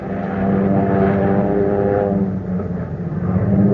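Radio drama airplane engine effect: a loud, steady propeller drone with a deep harmonic hum, swelling slightly and sustained alone without voices.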